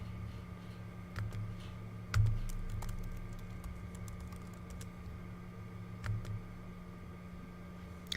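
Keys tapped on a computer keyboard while a username and password are entered, soft scattered clicks with a few louder thumps over a steady low hum.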